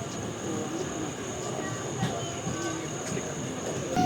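A passenger train departs on the new Velankanni to Chennai service with a steady, loud rumble of rolling wagons and faint wheel clatter, heard close alongside the track.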